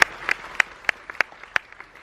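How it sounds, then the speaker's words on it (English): Scattered applause from a small group of spectators at a magic show, a handful of distinct, sharp claps in an irregular rhythm, fairly close and thinning out toward the end. "Let's give our spectators a big round of applause."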